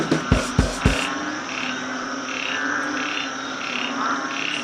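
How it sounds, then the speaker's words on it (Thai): Banded bullfrogs croak in an even, repeating rhythm of short calls that sound moderately near. A few sharp knocks come at the very start, and the calls carry on alone with no talk. "ฟังเสียงอึ่งอ่าง"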